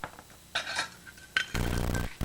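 Metal measuring spoons clink and rattle in a home kitchen, a few short bright jangles with a louder burst of clattering near the end, close by and without talk.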